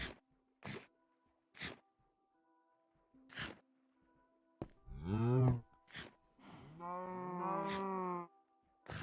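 Cows moo in Minecraft, several drawn-out, harmonic low calls heard alone after a few short clicks, the longest and loudest near the end.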